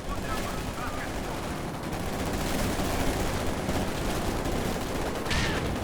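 A Maxim machine gun fires steadily on a Company of Heroes 2 battlefield, a dense continuous rattle mixed with other gunfire and explosions, with a commentator talking throughout.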